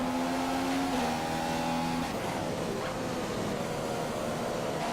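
A McLaren Formula One car in the racing game F1 2015 drones continuously at high revs, with a steady engine tone that shifts pitch as it lifts and picks up through a corner, loud and close, with no talking.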